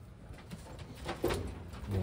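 A large Taiwanese racing pigeon, one of a newly arrived batch, gives soft, low coos in a short burst, close and fairly quiet over a faint background hum.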